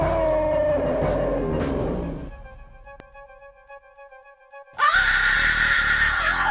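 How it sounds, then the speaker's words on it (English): A sea slug in the Space Quest IV video game lets out a loud, harsh scream that fades into a quiet, warbling electronic tone, then a burst of loud noisy game sound follows. "Nice scream. It's a sea slug!"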